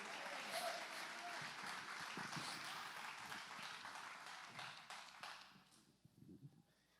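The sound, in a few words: applause in church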